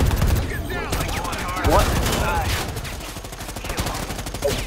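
Gunfire in the online game Predator Hunting Grounds: dense rattling bursts of shots fill the moment while a player's voice briefly cuts in over the shooting.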